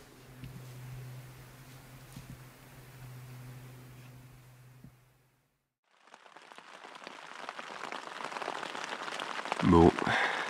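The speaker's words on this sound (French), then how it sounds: "Et il se finit dans la pluie, hein, comme d'hab." Rain comes down on the last day of a mountain trek around the Aiguilles Rouges near Mont-Blanc. A hushed stretch with a low hum gives way to a swelling rain patter, and a faint voice and a brief sharp sound come near the end.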